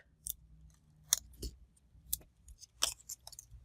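Scissors cutting a sheet of cardstock in half during a die-cutting card project, a few crisp close snips spaced apart on a quiet table with light handling noise between them.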